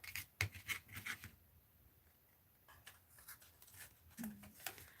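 Scissors snip through excess paper in a few quick, close cuts, each followed by soft rustling and rubbing of the paper, then a short pause before more light scraping.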